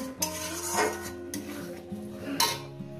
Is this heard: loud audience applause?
no